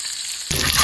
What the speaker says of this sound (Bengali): ডিমটা ভাজা হয়ে গেছে